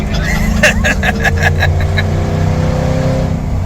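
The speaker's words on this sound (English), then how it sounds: "I'm just lifting off the gas." A car engine on a ride-along at a track eases off as the driver lifts off the gas, the engine note fading slightly beneath wind noise and a voice talking over it.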